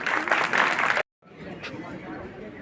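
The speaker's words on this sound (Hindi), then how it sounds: "तालियां।" Applause and clapping from an audience closing the Panchhi Utsav, a children's festival event. The sound is dense and steady, then a short gap, then quieter lingering clapping and crowd noise.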